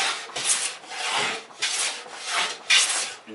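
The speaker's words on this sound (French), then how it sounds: "Donc là, on entend le rabot chanter." A hand plane shaves thin, long wood curls off a board in repeated rasping strokes, roughly two per second, close and clear with no talking.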